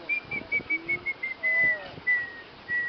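A person whistles in short, high bird-like chirps, imitating a little bird, in a quick run of bursts with one longer held note.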